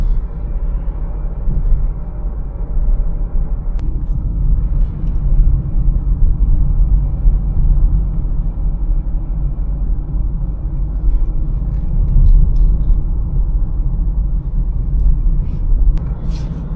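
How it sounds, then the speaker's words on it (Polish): Mazda CX-3 pulling uphill as the throttle is pressed, a loud, low, steady engine and road rumble heard from inside the car, with no voices. "Teraz pod górkę dodaję gaz"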